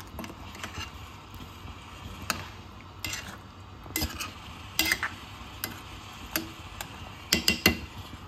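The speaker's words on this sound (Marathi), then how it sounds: "एकदाच मी आता मिक्स करते" A spoon stirs curry in a pot just after a glass of water is added, giving sparse metallic clinks and scrapes that grow busier toward the end, with no talking.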